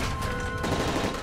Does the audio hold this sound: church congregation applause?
no